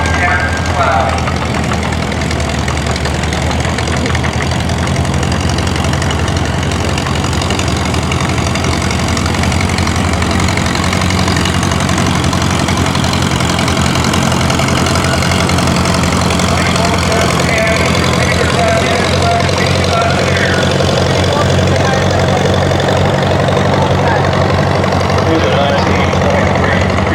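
A 1932 antique tractor engine runs steadily and loudly in a tractor parade at a New York steam engine show, a continuous low rumble that lasts the whole stretch while an announcer talks over it.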